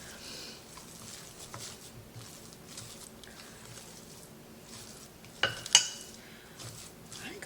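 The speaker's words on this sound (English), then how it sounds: "And you can like stir, stir, stir." Instant potato salad is stirred with mayonnaise in a bowl, giving soft, repeated scraping and squelching close by, with two sharper clinks of a utensil against the bowl near the end.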